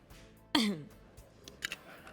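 A single short, sharp cough rings out close by, followed by faint shuffling and quiet background noise.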